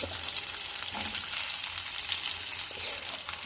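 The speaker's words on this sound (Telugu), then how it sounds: "ఆయిల్లో ఆనియన్స్ వేసుకోవాలి" Onions frying in oil in a pan, a steady close sizzle with a dense crackling hiss that holds evenly throughout, with no talking.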